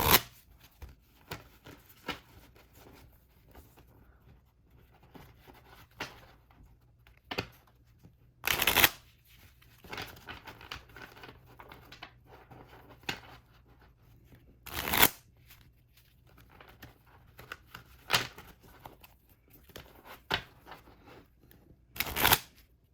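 Playing cards are shuffled repeatedly with soft riffling and tapping, punctuated by a few sharp louder riffles, close and alone.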